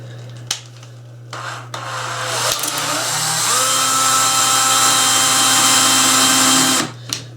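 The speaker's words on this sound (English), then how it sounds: "Use the drill." A power drill pushes a nail into a toy excavator during assembly: a few knocks and handling noises, then a loud, steady, close whine for about three seconds that stops abruptly.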